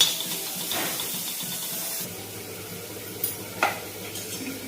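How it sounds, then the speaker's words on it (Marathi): Grated coconut roasts in a little oil in a pan, giving a soft, steady sizzle with a couple of brief scraping stirs near the end, with no voices. "आणि नंतर आपण खोबरं भाजू"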